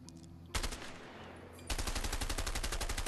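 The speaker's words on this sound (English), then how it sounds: "Oh my god, we're going to be actually shooting." Sustained automatic assault rifle fire in A Way Out, a short burst followed by a loud continuous rapid stream of shots, with faint background sound before the firing starts.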